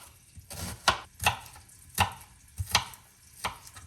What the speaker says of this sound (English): let's cut onion